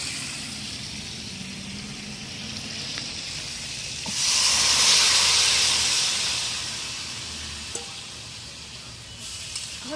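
Mixed vegetable curry of jackfruit seeds and drumsticks poured into a pan of fried shrimp, a low sizzle rising to a louder hissing surge midway before settling back down, no speech.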